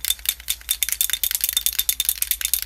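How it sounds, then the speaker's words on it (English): A spray can is shaken hard and fast, its mixing ball rattling in a quick, even run of sharp clicks, close and loud with no voice over it. "You have to shake it, and this little ball inside absolutely annoys me."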